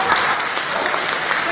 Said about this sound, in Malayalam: The clap from the men is not that strong.